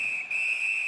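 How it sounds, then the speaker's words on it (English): Referee whistle in the NHL 19 hockey video game, a single sustained shrill blast lasting under a second, clear and close. "And holds on to that puck to get the whistle."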